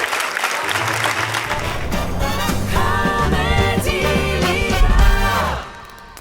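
An audience at a comedy show claps, a broad burst of applause that swells under loud music with a strong beat and sustained tones, then fades as the music ends.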